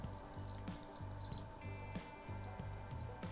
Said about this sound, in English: just fry these up really quick